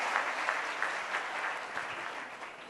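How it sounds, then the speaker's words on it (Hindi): A gathering at a women's empowerment camp in a gurukul breaks into fairly quiet, continuous clapping from many hands, gently tapering off toward the end. "एक बार जोरदार तालियां बजाइए"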